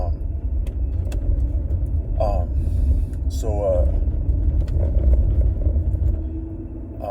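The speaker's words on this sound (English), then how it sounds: "I'm getting a lot of people driving by." Cars passing on a nearby road make a low, continuous rumble that swells and fades, while a person talks over it in short bursts.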